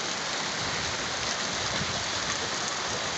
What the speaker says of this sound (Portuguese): Dia 3 de abril, começando o mês, o chuvaral.